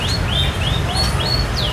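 Canary chirping in short rising whistled phrases, several in quick succession, over a steady low rumble of background noise.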